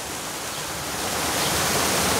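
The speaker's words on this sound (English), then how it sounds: "Got the waterfall behind us here." A zoo waterfall gives a steady, loud broadband rush of falling water that swells slightly over the stretch, with no voices on top.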